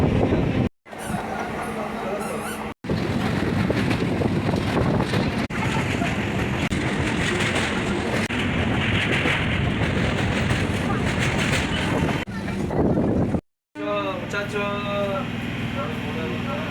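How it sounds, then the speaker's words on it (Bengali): A Santragachi local train runs toward Panskura Junction, its steady rumble and rattle loud and continuous with wind buffeting, broken by a few brief dropouts. "আমাদের সাঁতরাগাছি লোকাল 62 কিলোমিটার কভার করে ফাইনালি পৌঁছে গেল পাঁশকুড়া জংশনে।"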